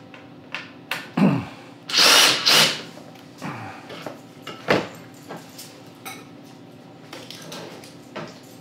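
A starter switch is unscrewed from a Deere 1032 snowblower: a brief, whirring burst from a power driver, followed by light metallic clicks and handling taps in a quiet room.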